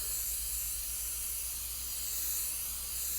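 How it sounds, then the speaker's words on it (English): A continuous aerosol hiss of pan spray coating a baking dish, steady for a few seconds, close and fairly quiet, with a low electrical hum beneath it. "I'm going to go ahead, spray that with some pan spray"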